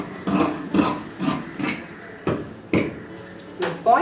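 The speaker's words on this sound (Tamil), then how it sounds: "இப்போ ஸ்லீவ்ஸை கட் பண்ணலாம்." Scissors snip through fabric while sleeves are cut out during tailoring, a series of about eight separate crisp cuts spaced irregularly, close and fairly clear with no talk over them.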